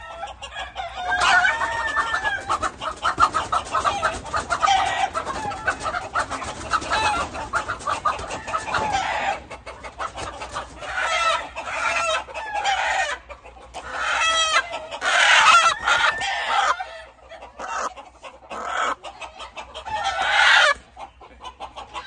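Gamefowl roosters cluck busily and crow repeatedly, loud and close, with overlapping calls rising and falling in uneven bursts.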